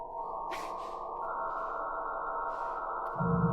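A minor chord built from synthesized tones based on the frequencies of chemical elements, sounding as a dense, sustained buzzing cluster of pitches that holds steadily and swells louder near the end, with no voices.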